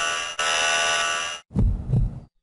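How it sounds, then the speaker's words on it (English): A Mega Man X6 boss stage gives off a loud synthetic drone that cuts out, then two heavy, low, thudding heartbeat pulses sound close and alone before fading to silence. "Heartbeat sounds, that's never a good sign."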